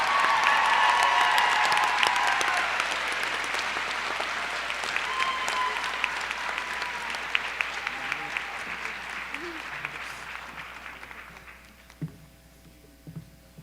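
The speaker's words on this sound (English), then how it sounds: "Let's give them another round of applause" A high school graduation audience applauds scholarship recipients, a loud dense round of clapping that slowly thins and fades out after about ten seconds, leaving a few scattered claps and low room hum.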